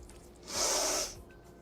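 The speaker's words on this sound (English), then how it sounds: "Sniffle, sniffle." One short nasal sniffle, a quick airy intake lasting about half a second, close and clear against a quiet background.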